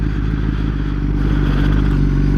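A rebuilt Kawasaki ZX10-R sport bike cruising on the road, its engine droning loud and steady up close with heavy wind rush, holding a constant pitch throughout.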